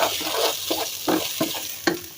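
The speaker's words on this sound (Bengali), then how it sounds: "আজকে একটু পোলাও রান্না করতেছি, চালগুলো ভেজে নিতেছি।" Rice grains for pulao fry in a hot pan, a close, crackling sizzle broken by several scraping stirs in an irregular rhythm.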